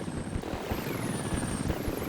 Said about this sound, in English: The helicopter comes in.